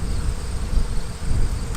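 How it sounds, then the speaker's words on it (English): Russian honey bees buzz steadily at an open hive full of capped honey and brood, a dense, close drone with a constant low hum and no voices. "Hey, Russian bees, capping a little honey, brood,"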